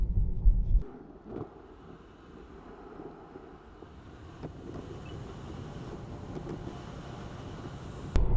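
Inside a Tesla Model 3 cruising the M42 motorway around Birmingham, steady low road and wind rumble fills the cabin, with a louder burst at the start and end and faint ticks in between.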